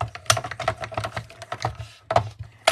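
Card layers with detailed leaf dies cranked through a manual die-cutting machine, giving a close, steady run of rapid clicking, ratcheting bursts with brief pauses between turns.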